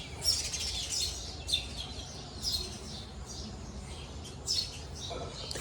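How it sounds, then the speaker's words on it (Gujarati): Sparrows chirp in repeated bright bursts near a temple setting with monsoon rain, their calls fairly close over a steady low background hiss. "ચકલાઓ ચાલુ કરી દીધો અવાજ જોઈએ."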